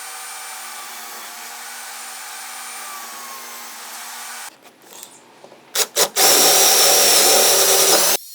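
Power tool whines steadily and loud while cutting cavities for a multi-cavity soft jerk bait mold, then stops, followed by a few short bursts and a louder, sustained high-pitched cutting run.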